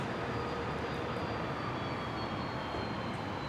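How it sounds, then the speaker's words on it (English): A Jetstar passenger jet arriving from Proserpine lands at Brisbane airport on runway 19 left, heard as a steady, loud, broad engine roar that fills the whole stretch without letup. "Jetstar 8:33 coming in from a beautiful part of"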